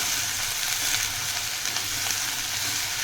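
Okra frying in oil in a pan for a Maharashtrian bhendi bhaji, giving a steady, close sizzle with soft stirring textures throughout and no talking.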